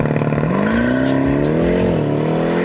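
Jeep Grand Cherokee Trackhawk launching under launch control: a loud, close engine roar that builds steadily in pitch as the SUV accelerates hard, with no one talking.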